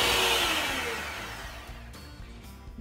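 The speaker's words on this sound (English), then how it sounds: "I'm going to whisk those together now with my hand mixer until they're light and fluffy and fully combined" An electric hand mixer whisks sugar and cooking margarine together, a steady whirring drone that gradually softens and lowers, heard alone with no talking.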